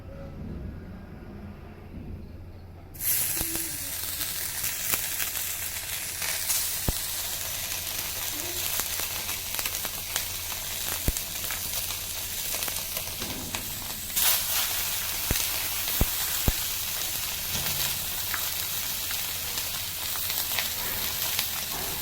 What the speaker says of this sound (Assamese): তেল থকা মাংস কেইপিচমান কেৰাহীখনত দি দিম।